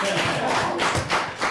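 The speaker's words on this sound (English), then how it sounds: "Clap if you think Oprah's evil." A comedy club audience claps in scattered, uneven bursts, a handful of distinct hand claps and thuds rising and falling briefly, with murmuring voices underneath.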